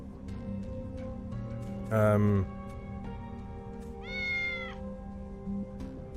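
Two separate cat meows from the video game Tales of the Neon Sea, one short and bright and one a bit longer, heard over a steady low background hum.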